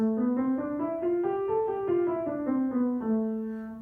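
A single instrument plays a diatonic scale starting from A, stepping evenly up eight notes and back down, clear and moderately soft.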